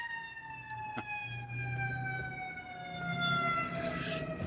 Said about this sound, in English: Fucking siren, I swear to God.